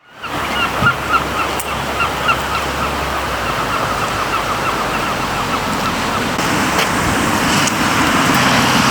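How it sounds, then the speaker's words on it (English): Waves wash steadily at the seaside in Flensburg on a rainy day, a continuous broad roar of surf with a few faint bird calls and distant road noise mixed in. "We're at the ocean in Flensburg"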